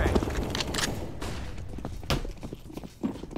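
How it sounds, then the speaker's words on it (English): A flashbang grenade goes off in a shooter video game: several sharp, loud broadband bursts land in quick succession over a busy bed of gunfire-like thumps and clatter. "Flash throwing fire. I'm throwing grenade"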